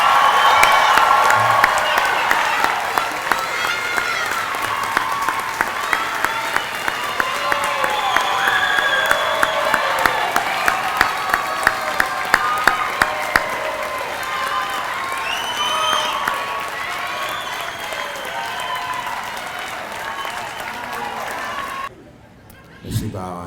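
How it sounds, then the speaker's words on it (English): An audience at the Piedmont Technical College summer graduation ceremony of August 2015 applauds the graduating class, with sustained clapping and a few cheers and whoops that carry on for over twenty seconds before cutting off sharply. "Please join me in applauding all members of the August 2015 graduating class"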